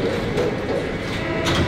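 Steady rumbling noise inside an underground train in France fills the whole stretch, a dense low roar with faint rattling, no voices.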